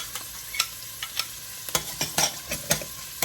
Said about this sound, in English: I am going to saute this until the garlic turns golden brown